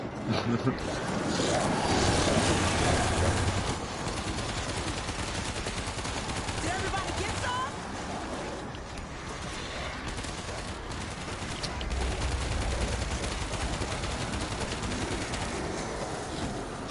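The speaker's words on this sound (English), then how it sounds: "This is that new machine pistol again in action." Rapid machine pistol gunfire in World War Z, a zombie shooter, rattling steadily through a dense, loud mix of game noise with voices underneath throughout.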